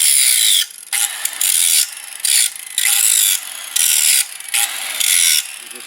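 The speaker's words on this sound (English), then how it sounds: "maybe I'll take a file, flat file" Flat file rasping across the metal edge of a Simplicity Sunstar mower's cutting deck, loud close strokes in an uneven rhythm of bursts separated by short pauses, no voices.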